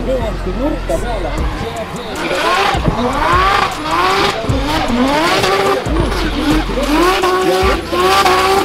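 A drift car slides into a corner at high speed, its tires squealing loudly in long wavering screeches over a roaring engine at a drift event, with people talking throughout.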